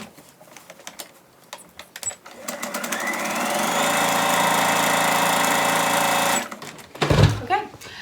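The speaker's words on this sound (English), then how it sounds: "And now we can sew our top seam with a 1 centimetre seam allowance" A sewing machine stitches the top seam of a fabric bunny basket, a close, rapid whirring run of several seconds after a few short starts, then stops with handling clatter.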